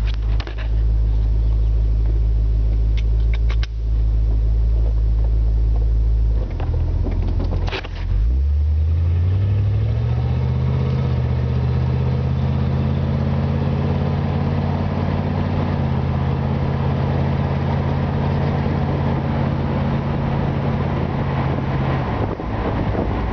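A 1967 Ford Mustang Convertible with its original 289 V8 idles with a deep, steady rumble, then pulls away, rising in pitch and holding a loud, constant drone as it drives, with some wind noise throughout.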